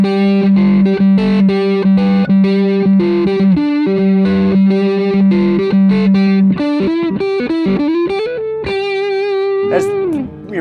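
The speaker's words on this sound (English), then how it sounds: "I'm show you a few more of these sounds, different pickup combinations on the Fano guitar that I'm playing" A Fano electric guitar plays through a Two-Rock Sensor 35-watt amp with a distorted, effects-coloured tone, working through different pickup combinations in loud, sustained riffs and held notes that end in a bending, slurred phrase.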